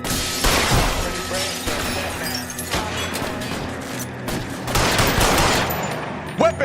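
Video game gunfire crackles in rapid bursts and single shots, loud and close, with sharp cracks scattered across several seconds amid game noise.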